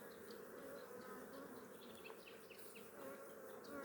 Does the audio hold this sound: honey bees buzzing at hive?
yes